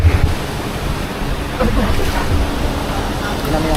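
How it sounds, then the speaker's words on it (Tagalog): Strong floodwater current rushes loudly and steadily during a flood in Occidental Mindoro, a constant roaring wash with wind buffeting the microphone and no clear speech. "Tignan mo yung current ng tubig."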